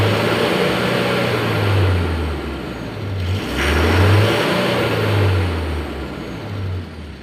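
A Mitsubishi Canter truck's 4M42 diesel engine revs up and settles back in repeated swells during a post-repair test, loud and close, with no talk over it.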